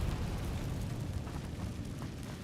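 An Incendio fire spell in the video game Hogwarts Legacy erupts as a dense, roaring burst of flame, a loud sustained whoosh holding steady throughout with no pauses.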